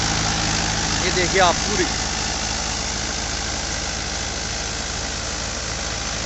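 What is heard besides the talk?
Mahindra 575 DI tractor engine running a wheat thresher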